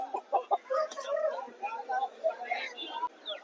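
Chickens cluck at a poultry market in Anantapur, where roosters are being sold; short fowl calls come through close by under steady conversation and bargaining voices.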